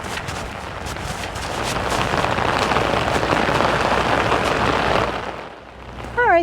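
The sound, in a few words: rain falling, slowing down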